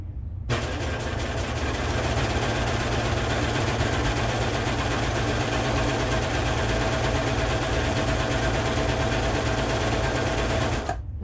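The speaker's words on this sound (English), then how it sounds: "now I'm going to go back and I'm going to serge the hemline" A serger overlocks the hemline of a little dress made from a thrifted pillowcase, running in one continuous loud, close whir from start to finish with no pauses.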